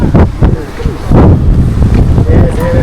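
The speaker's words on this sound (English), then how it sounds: "Didn't think it was going to be windy today." Gusty wind buffets a microphone outdoors on a warm, sunny day while sightseeing in Belgrade, Serbia. It makes a low, rumbling roar that surges and fades steadily throughout.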